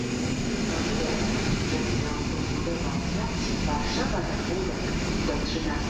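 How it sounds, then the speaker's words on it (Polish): Interregio passenger train from Łódź Fabryczna pulling onto siding tracks at Warszawa Wschodnia station in winter, a steady broadband rumble and rolling noise that stays loud throughout with an announcer's voice over it. "wjazd na tory postojowe Interregio z Łodzi Fabrycznej"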